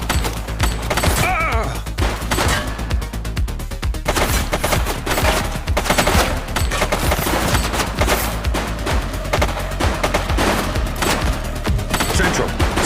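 A suspect opens fire in the police video game The Precinct, loud rapid bursts of gunshots cracking almost continuously, with crashes and thuds mixed into a heavy exchange.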